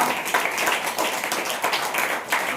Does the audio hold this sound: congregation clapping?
yes